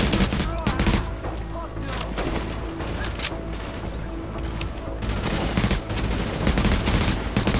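Dense suppressed gunfire in The Division video game, with rapid bursts and sharp cracks repeating almost continuously through a firefight, loud and close with occasional heavier impacts.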